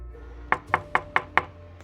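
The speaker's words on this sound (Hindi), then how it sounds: "हर रात जब मैं सोने जाता हूँ, मुझे वो दस्तकें सुनाई देती है दरवाजे पर।" Five sharp, evenly spaced knocks strike a door at night, loud and close, followed by a fainter sixth tap, with no voices.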